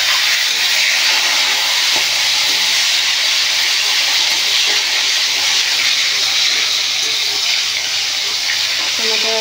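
Chopped tomatoes frying in oil in a home kitchen give a steady, loud broadband hiss that holds evenly throughout with little change.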